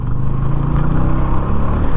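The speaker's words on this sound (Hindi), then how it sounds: "ये लो सेकेंड गियर पे ले आया इंजन ब्रेकिंग करते करते।" A motorcycle engine braking in second gear, with a loud, steady low drone of engine and road rumble held close throughout.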